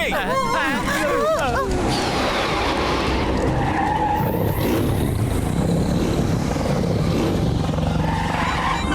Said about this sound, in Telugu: బస్సు స్పీడ్ గా పోనీ